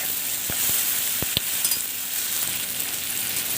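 Chopped tomatoes dropped into a pan of onions already fried red with coriander and curry leaves, setting off a steady hiss of frying. A few sharp clinks of a spoon against the pan break in over the first second.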